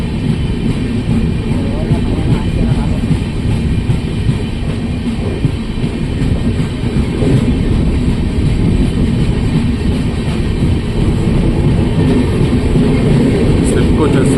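Bharat Gaurav tourist train rolling past on the Mysore–Chitradurga line near Naganahalli, a steady loud rumble of wheels and wagons throughout, with faint rattling and some voices beneath the continuous rail noise.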